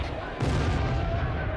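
Dense, booming gunfire effects woven into a heavy war-themed rock song, with a loud burst of blasts and rumbling percussion that swells after a quiet opening and keeps pounding steadily to the end.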